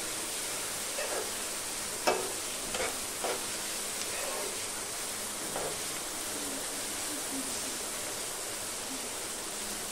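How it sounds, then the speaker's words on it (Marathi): Dried shrimp with raw mango frying in a pan, a steady broad sizzle throughout the clip with occasional stirring scrapes and clinks, fairly close. "दोन ते 3 मिनिटं छानपैकी अशी फ्राय करायची"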